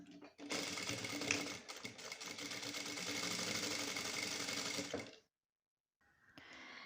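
A sewing machine runs steadily for about four and a half seconds, stitching the second strap of a shopper bag with a 0.1 mm edge seam, then stops abruptly; after a short silence a faint rustle follows.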